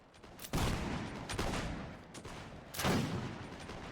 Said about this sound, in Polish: Każdy strzał to jest zabój. U, ten jak fajnie strzela.